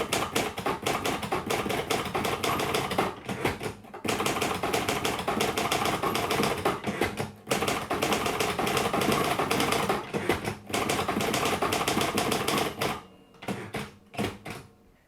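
Royal 200 / Royal Mercury manual typewriter being operated, with rapid continuous clattering keystrikes and mechanical ratcheting in bursts separated by brief pauses, close and loud throughout.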